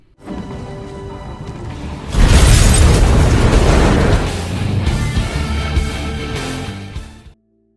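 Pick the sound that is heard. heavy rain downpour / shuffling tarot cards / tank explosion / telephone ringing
tank explosion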